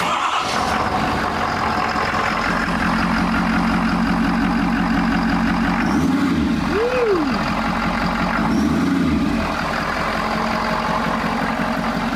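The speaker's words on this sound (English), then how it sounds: "I can hear that turbo a little bit" A 2019 Ford F-450 Platinum turbo diesel pickup engine idles steadily, with a faint turbo whistling whine rising and falling briefly as the engine revs up twice.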